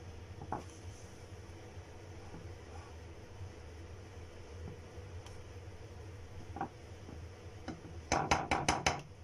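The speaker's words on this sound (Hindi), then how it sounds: "फिर हम ऐसे बीट कर लेंगे ताकि अच्छे से मिक्स हो जाए" A Dream Whip mixture for homemade Oreo ice cream is beaten in a bowl. A steady low whirr runs throughout, ending in a quick burst of about five sharp rhythmic clinks against the bowl.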